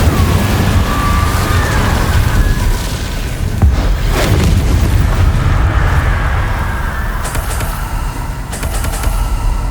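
Spell blasts in Hogwarts Legacy burst out as loud booming explosions over a steady rumbling game backdrop, with one heavier swelling blast near the middle and a few sharper crackling bursts toward the end.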